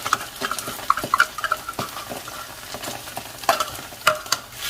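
Tomato-paste stew for jollof rice cooking over low heat in a pot, with a spoon stirring and scraping in uneven strokes and a few sharp clinks over a soft sizzle, close by, with no talking.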